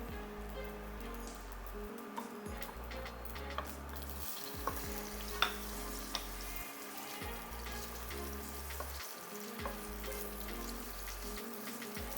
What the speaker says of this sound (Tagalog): ipiprito muna natin ang ating sausage